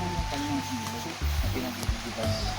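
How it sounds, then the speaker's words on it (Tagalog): A river runs through a rural farm lot, its flowing water rushing softly in the background beneath someone speaking nearby. "So ito po yung buhay na ilog po dito."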